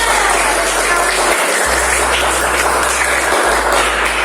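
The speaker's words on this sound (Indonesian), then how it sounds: "Oke, tepuk tangan buat Budiana." A classroom audience gives steady, continuous applause for a student named Budiana, with clapping loud and close throughout and no talk over it.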